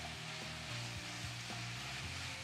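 Fennel bulb sautéing in a pan, a soft steady sizzle and crackle that stays faint and continuous throughout with no voices over it.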